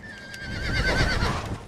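A horse in the Red Dead Redemption video game whinnies once, a loud, wavering high neigh over a low rumble of hoofbeats and movement.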